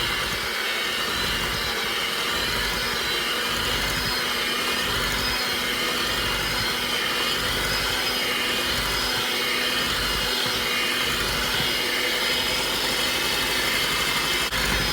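An electric mixer beating jumbo eggs into Southern red velvet cheesecake batter, a loud, steady, unbroken whirring drone that holds constant throughout, close up with no speech.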